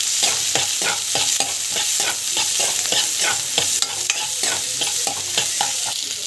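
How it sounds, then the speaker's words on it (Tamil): Green chillies and onion sauté in a pan for a potato and green peas gravy, with a steady close sizzle and regular scraping strokes of a spoon stirring through the whole stretch. "ஸோ பச்சை மிளகாய், ஸோ ஆனியன் நல்லா வேகணுண்டு நல்லா வதங்கணும்."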